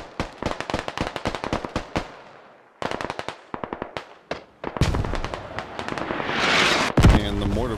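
A mortar barrage in the military shooter Squad: a rapid string of sharp, loud blasts and cracks, then heavier rumbling impacts and a long noisy roar near the end, with a voice speaking over part of it.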